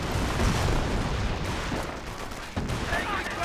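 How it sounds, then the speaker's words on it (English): A Company of Heroes strafing run rakes the ground with rapid, dense gunfire, a steady loud rattling barrage with a brief dip near the end before firing resumes. "Strafing run there does wipe out one of those squads."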